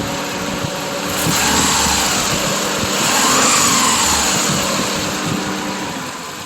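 A 2001 Subaru Legacy engine, overheating and running rough, idles unevenly, swells as the throttle is blipped, then settles back to a lumpy idle, close by with no talking.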